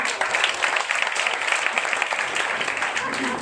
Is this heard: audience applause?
yes